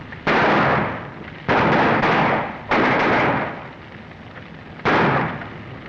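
Four loud, close gunshots ring out in a 1935 black-and-white John Wayne western, each a sharp crack trailing into a long echoing decay, spaced unevenly about a second or more apart with no talking between them.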